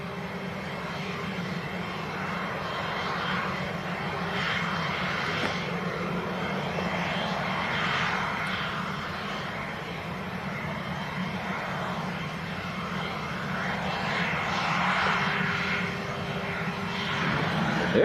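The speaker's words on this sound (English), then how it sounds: "Bizjet should be cleared to go now." A business jet takes off from Leeds Bradford Airport, its engine roar a steady, broad rumble heard from a distance that swells slightly over a long stretch, with no voices.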